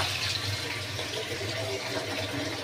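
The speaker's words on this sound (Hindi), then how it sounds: "उसके अंदर डालूंगी पानी," Water pours steadily into a large metal basin in a small home kitchen while sarson ka saag is being made, a close, continuous rushing splash with no pauses.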